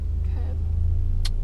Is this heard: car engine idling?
yes